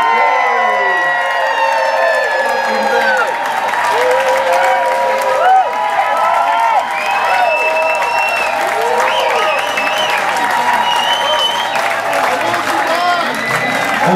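Applause and cheering from a concert audience at the Hopmonk club in Sebastopol, California, for a band member: sustained clapping with whoops and shouts rising above it, loud and continuous for the whole stretch.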